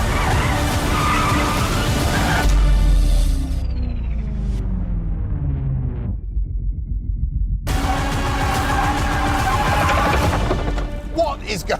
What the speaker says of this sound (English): We just did a tyre in one skid.